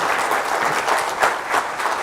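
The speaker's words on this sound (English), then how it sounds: "give him a round of applause for that" A brief burst of audience applause at a real estate seminar, dense steady clapping from a crowd that stays fairly loud for about two seconds with no speech over it.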